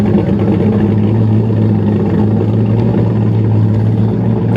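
A truck engine at a car show holds a loud, steady, deep rumble close by, with a constant low drone and no sharp rises in revs.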